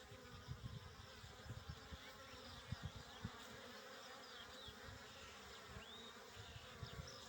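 Worker honey bees landing and taking off at the front of a hive make a faint, steady, low buzzing drone, with occasional individual bees humming past close by.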